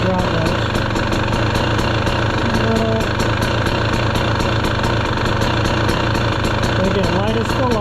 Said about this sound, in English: Go back to an idle, let's see if the drop much